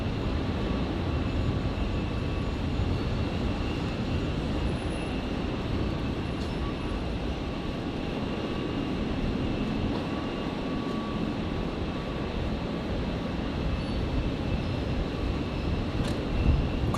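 A Qantas 186 airliner touches down on runway 01 right at Brisbane airport, a steady, broad jet roar holding at an even level throughout with no voices.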